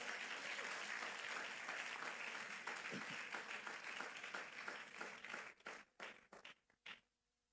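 Congregation in a church clapping and applauding in praise of God, a dense sustained round of applause that thins into scattered individual claps and fades out.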